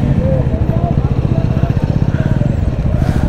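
A motorcycle engine runs steadily at close range during a nonstop monsoon ride toward Madhupur, Jharkhand, its throbbing low drone continuous throughout, with a voice talking over it.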